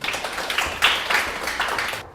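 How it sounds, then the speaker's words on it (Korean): An audience at a Korean civil service exam prep information session applauds, a short burst of scattered clapping in a room that fades out quickly. "네, 박수 한번 주십시오."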